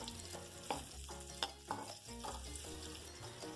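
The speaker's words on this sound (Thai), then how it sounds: "พอเราเจียวจนกระเทียมหอมดีแล้ว" Garlic fries in a wok for a Thai stir-fry of snow peas with fresh shrimp, a faint sizzle broken by a few soft scraping stirs of the spatula, with no speech.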